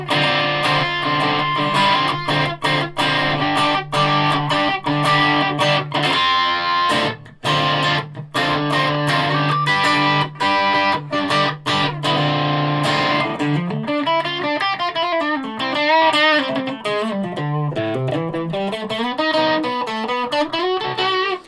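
An Ibanez Q54 electric guitar played through heavy distortion, loud, sustained chords ringing for long stretches, shifting into fast bending lead lines near the end, with no voices.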